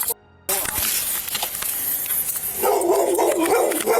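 A dog barks repeatedly close by during a tense roadside police encounter, loud yips over rumbling engine and traffic noise with a burst of wind-like hiss.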